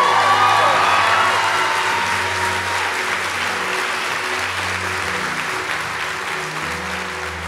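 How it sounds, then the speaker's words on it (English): A church audience bursts into loud, dense applause with some cheering and whoops, strongest at the start and slowly thinning over several seconds while organ or keyboard chords sustain underneath. "We're clapping for Jesus"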